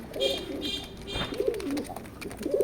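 Racer pigeons coo in repeated soft, throaty bursts close by, while faint chirps and a bit of background chatter sit under them.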